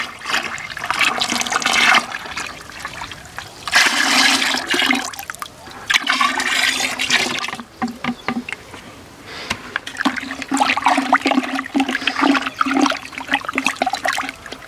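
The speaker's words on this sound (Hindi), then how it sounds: "हम धीरे धीरे से इस मिश्रण को एक बाल्टी में मिक्स कर लेंगे।" Bordeaux mixture solution is poured and stirred in a bucket, giving a rushing, splashing water sound in repeated surges with short pauses between pours, close and fairly loud with no talk.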